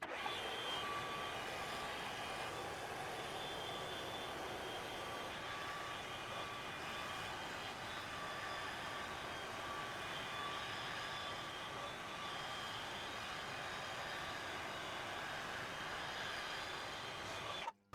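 Continuous steady machining whine and broadband cutting noise from a lathe or mill taking 0.5 mm passes on a cylinder head for a Redrup Radial EP.7 engine, loud and unbroken for the whole stretch with no talk.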